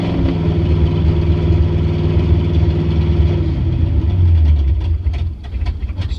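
A 1953 Studebaker car engine runs steadily after its first start, a loud close idle with a low rumbling drone and slight unevenness, without talk.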